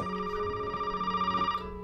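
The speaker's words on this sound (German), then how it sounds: "da wird gleich jetzt das Telefon schellen" A telephone rings in the horror video game Resident Evil 7, a steady electronic bell tone sounding continuously for nearly two seconds before cutting off, moderately loud and alone.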